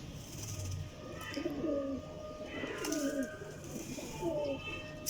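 Soft repeated coos from a female flying pigeon, three warbling calls spaced about a second apart, fairly faint over steady background noise.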